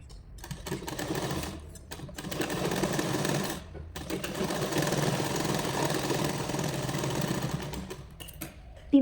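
A sewing machine runs in a steady, close, rhythmic whir while stitching the front of a blouse, with two short pauses between runs of narrow and wide stitches.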